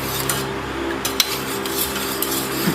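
Milk and custard syrup being mixed in a pot for fruit custard: light metallic scraping and clinking of a utensil against the pot, fairly close, with a few sharper taps and no voices.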